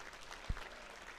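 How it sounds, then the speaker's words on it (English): Audience at a 100th anniversary celebration giving Sam a round of applause, a soft, fairly distant patter of clapping with one brief louder thump midway. "let's give Sam a round of applause"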